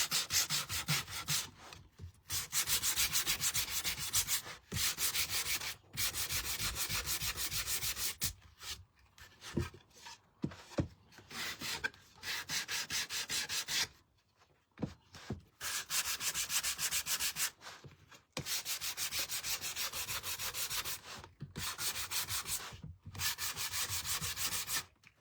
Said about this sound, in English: It's just my gator sander with some little sanding pads.